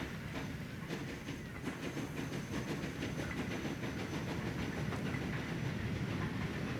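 A steam locomotive in Transport Fever 2 pulls coaches away from a standing start at Darlington, a dense, continuous rumbling chuff with rhythmic clattering and hiss, steady and fairly loud throughout, with no talking.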